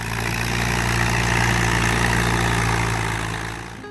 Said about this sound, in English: Number 5, the Allis-Chalmers WD-45.